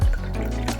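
Water poured into empty cups of a cupcake tin set for red velvet cupcakes, a short splashing burst with a soft liquid rush, close and loud, without talk.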